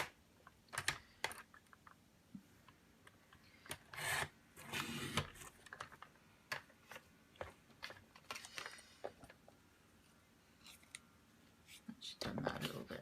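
Cardstock paper being trimmed for a stamped craft project, heard as soft, close scraping and cutting strokes in irregular bursts, faint overall, with some quiet talk.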